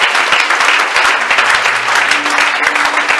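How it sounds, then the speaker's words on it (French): Loud, dense applause from a crowd, steady clapping filling the space without a break, with a faint murmur of cheering underneath. "Quelqu'un acclame très fort."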